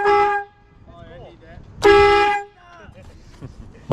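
Train horn blasts loud and close in two long tones with a quiet gap between, and faint voices and noise beneath.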